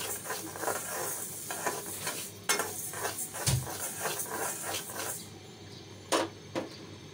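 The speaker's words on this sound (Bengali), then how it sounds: "এদিকে খিচুড়ির জন্য মুগ ডাল আমি একটু ভেজে নিচ্ছি" Mung dal dry-frying in a pan for khichuri, with steady soft sizzling broken by repeated spatula scrapes and clinks against the metal, nearby and without voices.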